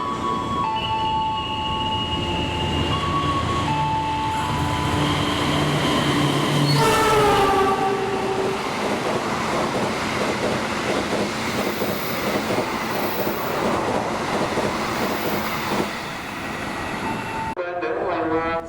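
A passenger train on an Indonesian railway rumbles past on the rails with rhythmic clickety-clack from the wheels, a horn sounding midway, and the noise cutting off sharply near the end.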